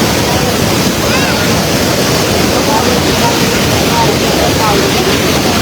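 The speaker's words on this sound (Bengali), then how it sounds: "পানির প্রচুর স্রোত এবং গর্জন" Floodwater roaring through a breached Khowai river embankment in Habiganj, Bangladesh, a loud continuous rushing wash with wind buffeting the microphone, no clear talk.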